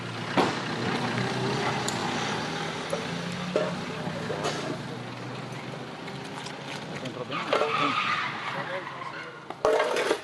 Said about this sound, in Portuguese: Ele chegou a dar um cavalo de pau em plena avenida.